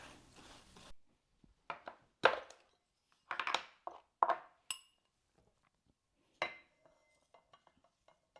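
Spice mix with paprika stirred by hand in a bowl: a few scattered scrapes and clinks of a utensil against the bowl, close and fairly quiet, alone with no talking.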